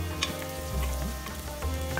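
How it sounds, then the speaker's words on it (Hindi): Onion with ginger and garlic frying in a pot for turkey keema sizzles steadily, with stirring scrapes and a few brief clinks over the continuous hiss, no talking. "प्याज हल्का सा फ्राई हो गया है।"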